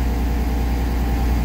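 School bus engine idling at low RPM, a steady low rumble with an even drone that holds constant and loud throughout.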